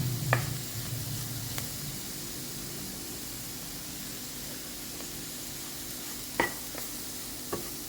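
Flour, about five teaspoons of maida, is sautéed and stirred in a pan, making a faint, even hiss with occasional sharp spatula taps against the metal.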